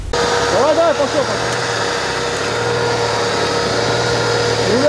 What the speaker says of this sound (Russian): Грязь и рев мотора.